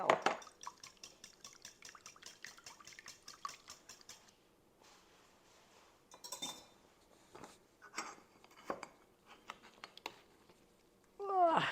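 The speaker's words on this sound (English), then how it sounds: "Squeezing out a little bit more of the spinach. Get all that spinach juice out." Juice squeezed by hand from cooked spinach for a quiche, heard as soft wet squelches and drips, with occasional clinks of a bowl or utensil, close by and fairly quiet.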